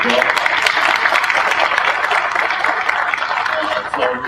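Sustained audience applause in a school district gathering, dense clapping filling the room steadily for several seconds, with possible faint voices underneath.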